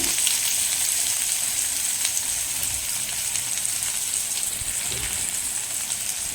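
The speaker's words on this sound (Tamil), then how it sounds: "இப்போ ஆயில் சேர்த்தாச்சு. கடுகு, சோம்பு, சீரகம், வெங்காயம் வந்து கொஞ்சம் சேர்த்துட்டேங்க." Onions sizzle in hot oil with mustard seeds, fennel and cumin for a tomato gravy, a close, steady, continuous frying hiss with faint stirring and no voices.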